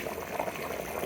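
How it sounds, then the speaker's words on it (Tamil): Country chicken curry boiling hard in a pot, a continuous bubbling, roiling simmer with soft liquid pops, close and fairly quiet, steady with no talk. "சே, பயங்கரமாக கொதிக்குதுங்க"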